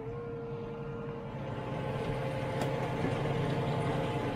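A New Holland T7 tractor pulling a Dowdeswell plough gives a steady, droning engine hum with a low tonal whine, gradually swelling a little louder, heard alone without talk.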